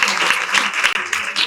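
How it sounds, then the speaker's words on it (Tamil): Audience clapping at a Tamil Christian debate on whether men or women excel in faith, a broad, dense wash of many hands filling the room, steady and fairly loud for a brief moment with a slight dip midway. "ஆனாலும் மீண்டுமா ஒரு கைத்தட்டல்"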